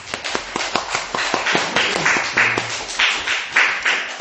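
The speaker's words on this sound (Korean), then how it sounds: "우리 그 하나님께 한번 박수 한번 채워봅시다." A church congregation claps during a Sunday worship service, a lively burst of many hands clapping together in a loose rhythm, loud and sustained for several seconds.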